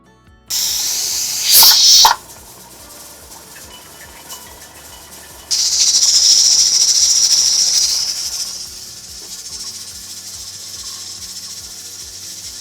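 A pressure canner on high heat while canning ground beef vents steam in loud hissing bursts, first a short sharp burst, then a longer steady hiss that fades, against a quiet low hum, no talk.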